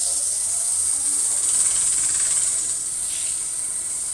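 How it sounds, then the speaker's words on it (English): A wood lathe spins a bowl during sanding, producing a steady high hiss with a faint whirring underneath, constant and close throughout. "Just going to turn the lathe on then, sand from underneath like so."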